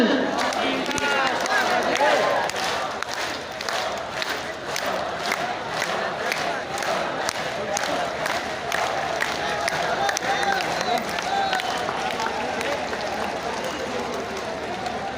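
A large crowd at a Narendra Modi political rally in Barwani, Madhya Pradesh, claps in rhythm and chants together, a loud, continuous roar of voices and steady beating applause that carries on for over fifteen seconds.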